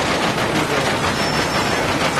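Loud, continuous rumbling clatter of a train rolling along the tracks in Medal of Honor, dense and unbroken, with a faint steady whine riding on top.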